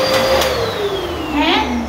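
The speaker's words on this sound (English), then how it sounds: "You said the vacuum sucks" A vacuum cleaner in a home runs continuously nearby with a loud whining drone whose pitch slowly drifts downward, steady throughout with no pauses.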